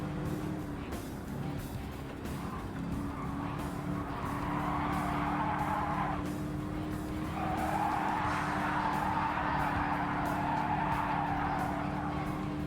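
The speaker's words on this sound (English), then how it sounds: "Bit of a skid on." Tires skid and squeal on a car in Gran Turismo 7, two long screeching slides over a steady engine drone, the first fading out briefly before the second rises again and holds, with no talk.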